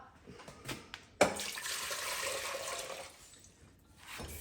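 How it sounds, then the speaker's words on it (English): Tap water runs into a 4-cup liquid measuring cup in a home kitchen, beginning with a sharp splash and then pouring steadily as a fairly close, broadband rush that eases off near the end, with no talking. "fill up our 4-cup liquid measuring cup twice so that we have 8 cups of water"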